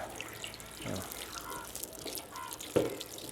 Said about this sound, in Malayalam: വെള്ളം ഒഴിക്കും വയറ്റിലേക്ക് ഒഴിക്കും